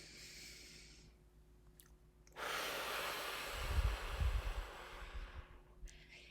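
Deep breathing during a guided seated stretching exercise: a slow, audible inhale and a long, rushing exhale follow a quiet pause, close and fairly loud, with no talking.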